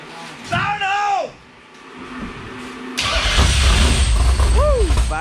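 A late model race car engine cranks and fires, bursting into a loud, rough, steady idle that fills the second half. Before it catches, people talk nearby in a quiet garage.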